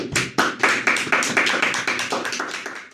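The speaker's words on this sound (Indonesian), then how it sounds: "Tepuk tangan untuk Bung Arif dulu" A small group claps for a podcast guest in a studio setting, about a dozen distinct, close, fairly loud claps in an uneven rhythm that gradually soften, with no talk over them.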